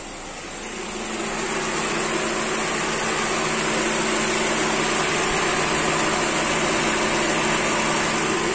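Volkswagen Gol at idle as its radiator cooling fan kicks in, a steady broadband whir rising over the first second and then holding loud and constant with a low engine hum underneath.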